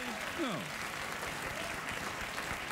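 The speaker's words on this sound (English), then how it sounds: "That gets a round of applause" Studio audience applause at a late-night television talk show, a steady dense wash of clapping that stays level throughout, with a voice briefly speaking over it near the start.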